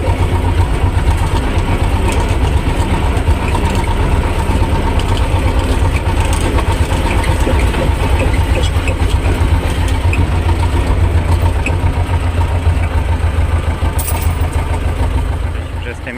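A T-25 tractor engine runs steadily and loudly, a continuous close-up drone with a deep low rumble that holds for the whole stretch before easing slightly at the end.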